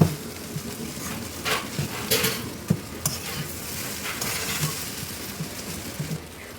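Egg being stirred into noodles frying with tomato sauce for street-style egg noodles, a steady low sizzle with scraping stir strokes and a few sharp clicks, close and alone.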